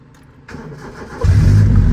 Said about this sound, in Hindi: first self start for you